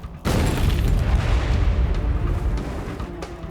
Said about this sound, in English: a highly volatile chemical that erupts in a massive explosion